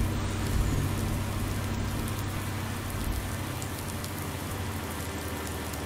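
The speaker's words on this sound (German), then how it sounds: "Und wir haben Regen" Steady rainfall in the farming game Landwirtschafts-Simulator 19 on the NF Marsch map, a continuous even hiss of drops on surfaces with a faint low vehicle rumble underneath, and no talking.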